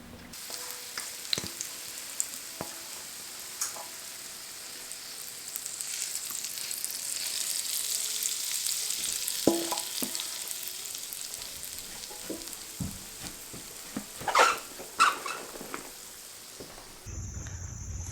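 Streaked meat fries in a pan with a steady, moderately loud sizzle and scattered pops and light clinks, with a few sharper crackles near the end and no voices.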